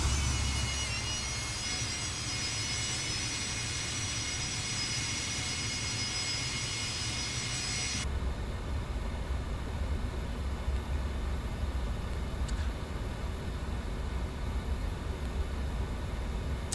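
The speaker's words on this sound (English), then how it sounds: "Yeah, the flaps do sound pretty good." Flaps on a Just Flight F100 airliner in Microsoft Flight Simulator 2024 run as a steady mechanical whine over constant aircraft engine and cabin hum, with an abrupt change in tone partway through.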